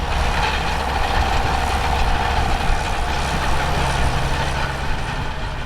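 John Deere 6910S tractor engine heard from inside the cab at 1400 RPM while moving slowly at about 5 mph, a steady, even low rumble with mechanical hum, no talk.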